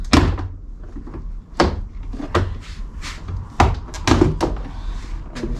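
Several sharp plastic pops and thunks as an Infiniti Q50 door panel is pried loose, irregularly spaced, close and fairly loud.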